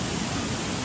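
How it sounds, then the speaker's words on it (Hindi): Langboku waterfall in Karbi Anglong, Assam, a steady broadband rush of falling water, constant and fairly loud with no other sounds. "ये है लांगबुकु वाटरफॉल"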